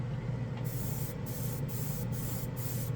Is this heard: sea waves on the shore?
no